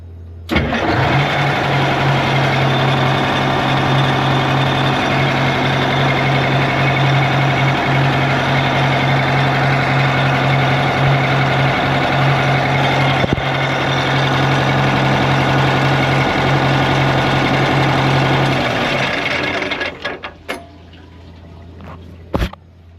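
A loud starboard boat engine idles close by with a steady mechanical hum and faint rattling from the coupler, running continuously before cutting out near the end.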